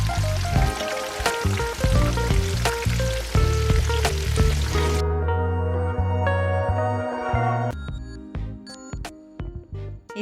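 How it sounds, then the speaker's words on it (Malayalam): Coated chicken pieces, dipped in water, fry in oil on low heat with a steady, dense sizzle over background music. The sizzle drops away about halfway through, leaving the music. "ചെറിയ തീയിലിട്ട് തിരിച്ച് മറിച്ചിട്ടിട്ട് ഞാനിത് ഫ്രൈ ചെയ്തെടുക്കുകയാണ്."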